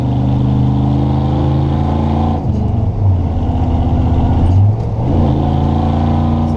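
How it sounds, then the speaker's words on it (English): A worn-clutch truck with a three-on-the-tree column shifter revs up during a rev-matched downshift, its engine note climbing and falling twice in steady, loud, close drones with no talking. "I'm going to rev it up a little bit and then ease on and off the clutch"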